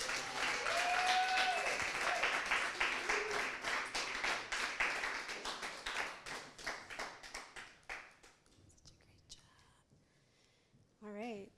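Sustained audience applause for entrepreneurs at an accelerator's final presentations, steady dense clapping that gradually thins into a few scattered claps and then fades, with a brief voice at the end.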